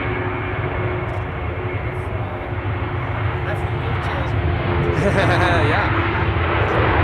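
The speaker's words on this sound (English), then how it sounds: "Here it is, the Emirates A380, already visible." An Emirates Airbus A380 airliner at Amsterdam Schiphol Airport gives a steady, broad jet roar that grows slightly louder toward the end, with a voice speaking briefly over it.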